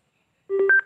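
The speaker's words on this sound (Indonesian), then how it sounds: "bunyi dari speaker ini menandakan HP dan speaker JBL kita sudah terhubung" A JBL Go Bluetooth speaker gives its short connection chime after pairing with a phone, a quick rising run of three clear electronic tones heard alone in silence.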